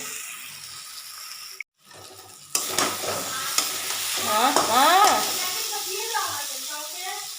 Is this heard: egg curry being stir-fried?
yes